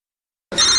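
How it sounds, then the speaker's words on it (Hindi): A telephone starts ringing abruptly after half a second of silence, a loud, bright electronic ring that continues to the end, with no voices over it. "अब फोन उठाओ, देखो किसका फोन है।"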